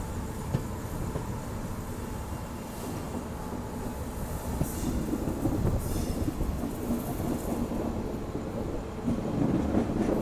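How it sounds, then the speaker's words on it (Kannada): Train carriage rolling at speed, heard from inside the front general coach of a new Bangalore-to-Mumbai service: a steady, loud rumble of wheels and rails fills the whole stretch without pause, with faint metallic squeals and clatter riding on top and no talk. "ಹೆಂಗೆ ಕರು ಹೊಡಿತಾ ಇದೆ ನೋಡಿ ನಮ್ಮ ಟ್ರೈನ್"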